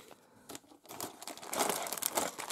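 Plastic bags crinkle and rustle up close as they are pulled out of a toy box for a Barbie GWR79 beach set, growing louder and busier toward the end with no talking.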